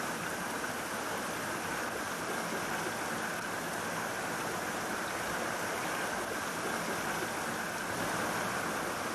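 Steady, full rush of a flowing trout stream, heard close and loud throughout without any voices.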